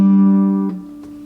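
A finger-picked acoustic guitar chord with the pointer finger lifted off, one strong ringing chord that decays, followed by a softer note or two plucked under it, near and alone.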